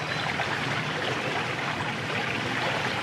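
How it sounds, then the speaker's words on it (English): Ocean waves wash in as a steady, dense hiss of churning water, continuous and fairly close with no distinct breaks or voices. "the waves, as you hear them"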